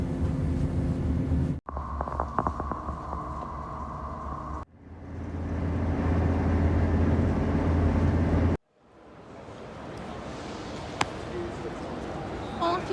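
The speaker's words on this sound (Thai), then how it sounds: "ค่ะนี่ก็ คือ บรรยากาศ ใน รถไฟ นะคะ" Steady low rumble and rattling inside a moving train in England, with clattering and brief pauses as the sound cuts between sections.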